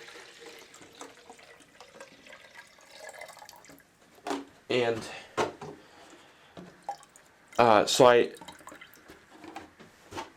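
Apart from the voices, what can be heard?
watering tomato transplants with distilled water from a small container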